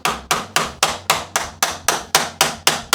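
A motorcycle fork part on a Kawasaki ZXR 750 is struck with steady, evenly spaced blows, about ten sharp metallic knocks in a row, close and loud with no talking.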